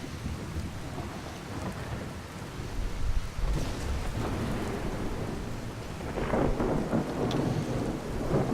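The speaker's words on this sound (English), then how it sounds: "It's a lightning strike." Heavy rain pours steadily in Skyrim, with a rolling thunder rumble building toward the end, a loud, broad, continuous wash with no talking.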